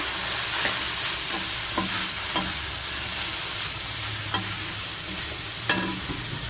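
Spices are stirred into bottle gourd frying in a pan, a steady sizzle with scattered scraping and tapping of the spoon against the pan, close and continuous with no talking.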